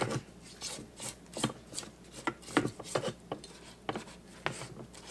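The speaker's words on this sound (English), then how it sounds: "So I'm going to give this a scrape down in here." A spatula scrapes down thick fruitcake batter, made with flour and fruit, around a mixing bowl. It gives a close series of irregular rubbing and knocking strokes, moderately loud, with no talking.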